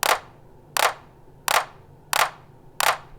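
A synthesized slappy snare drum programmed on MPC hardware hits five times at an even, quick pace, each crack sharp and bright with a short decaying tail under compression.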